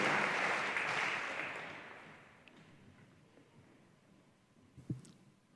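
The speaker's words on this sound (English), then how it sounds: "one more big round of applause" Audience applause at a school foundation education celebration, loud dense clapping that fades out over about two seconds into a quiet room with a faint thump.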